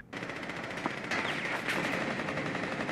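Gunfire from the tactical shooter video game Rainbow Six Siege during a match, a rapid burst of automatic shots followed by a sustained stream of firing and impacts.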